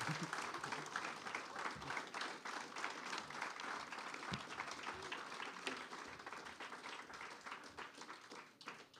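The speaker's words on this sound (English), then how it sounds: "Thank you, Parker, for generating another round of applause." An audience at a fellowship poetry reading breaks into applause, a steady wash of many hands clapping at a fair distance, continuous and fairly quiet, thinning slightly near the end.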